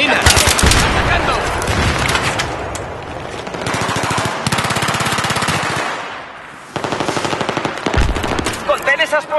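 Machine gun fire in the video game Battlefield 3: loud, rapid bursts of automatic gunfire repeat through the scene with short pauses between them, while soldiers shout over the shooting.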